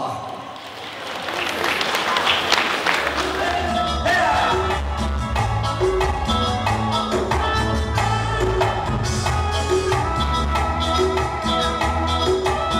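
Sustained applause from a quinceañera crowd in Greenfield, California: dense, steady clapping fills the room while band music with a bass line rises underneath and carries on to the end.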